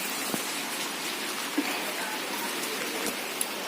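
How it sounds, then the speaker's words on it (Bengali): Steady heavy rain pours down in a dense, even hiss, with a few sharper drops and splashes standing out now and then. "প্রচণ্ড বৃষ্টি হচ্ছে"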